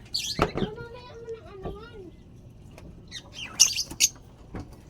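Pet birds chirp and squawk in short sharp bursts, with a few soft whistled notes and light clattering, near and intermittent.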